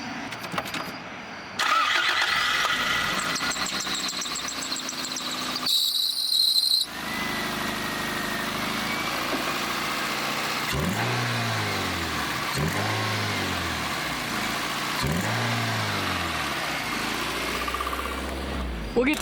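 A car engine cranks and catches, then revs up and down several times in repeated surges, close by, with brief talk early on.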